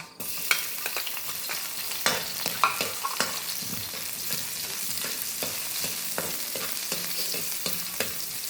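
Chopped onions sizzle and fry in a hot pan while being stirred, with scraping utensil strokes over a steady close sizzle, as the sauté base for Visayan-style chicken and pinakbet.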